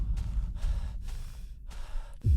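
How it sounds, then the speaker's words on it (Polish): Heavy panting in the horror video game Slenderman's Shadow, with rhythmic breaths in and out at close range, loud and repeated over a low ambient rumble. "Ale on się ten dyszy"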